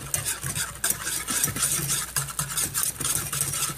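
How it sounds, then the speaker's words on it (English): A spoon works butter into a thick mixture, making loud, continuous scraping and swishing in quick repeated strokes close by, with no voices. "Now you get all that mixed in real well."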